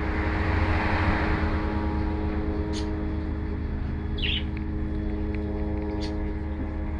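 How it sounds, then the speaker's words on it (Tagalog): A drone circles overhead in a residential area, a loud, steady engine-like drone with many sustained tonal hum lines filling the whole stretch, while a few faint bird chirps come through on top. "Rinig nyo ba guys, yung drone?"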